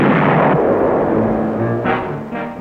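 A cartoon bomb blast booms loudly at the start, then a deep rumbling roar slowly fades with a couple of smaller follow-up bursts.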